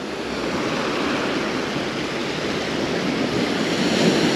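Sea surf rolls steadily onto a beach at Lazarevskoye near Sochi in April, a continuous loud wash of breaking waves with some wind noise and no voices.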